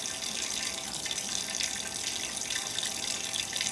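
Water pours steadily into a clogged bathtub shower drain treated with Drano, a constant, moderately loud splashing rush with no talk.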